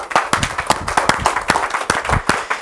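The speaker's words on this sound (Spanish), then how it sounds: "Dar un aplauso a Cristo." Congregation applause in a church hall, a dense run of sharp hand claps at steady strength throughout, close and loud, with no talk over it.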